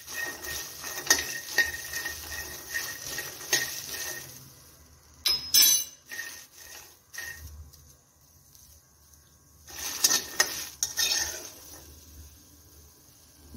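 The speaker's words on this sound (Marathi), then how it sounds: "यामध्ये टाकून घेऊया आपण ओले मटार. हलकसं भाजून घेऊया." Fresh green peas are dry-roasted and stirred in a hot kadai, with bursts of metal scraping and clinking in loose spurts separated by quieter gaps; nobody talks.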